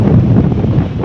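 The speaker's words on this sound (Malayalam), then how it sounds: "നല്ല കാറ്റടിക്കുന്നുണ്ട് കേട്ടോ." Strong gusts of wind at Chembarika beach in Kasaragod buffet the microphone, a loud, continuous low roar and rumble with no voices.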